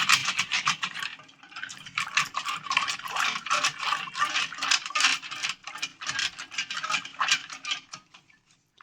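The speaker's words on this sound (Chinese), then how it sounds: "然后开始搓洗，只需要把筷子清洗几次即可。" Moldy wooden chopsticks scrubbed together by hand under water, a steady close rattling clatter of sticks rubbing and knocking with splashing water, continuous and busy without pauses, no voices.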